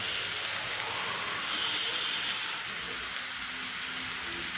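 A tin's worth of water is poured into a hot pan with chopped tomatoes, producing a loud, steady steaming hiss that swells briefly mid-way and then settles, with no talking.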